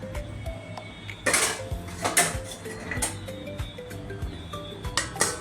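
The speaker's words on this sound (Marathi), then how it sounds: "आणि झाकण ठेवा त्याच्यावर." A metal lid is set onto a cooking pot of jowar (sorghum) noodles, giving several light clanks and rattles spread over a few seconds in a quiet kitchen.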